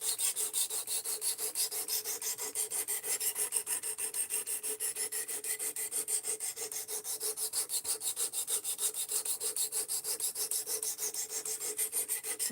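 A knife is sharpened freehand on a 400 grit stone, a steady run of rhythmic back-and-forth rasping strokes, close and even-paced, with no voices.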